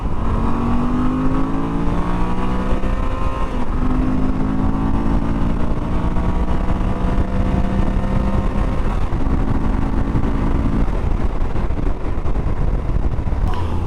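A 2022 Moto Guzzi V85TT motorcycle accelerates hard, its engine note climbing in pitch through several gear pulls, loud and close, with wind rush and no speech.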